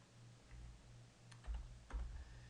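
Keys on a computer keyboard are tapped to enter a command: a few soft, quiet clicks in short bursts over a low steady hum, with no voice.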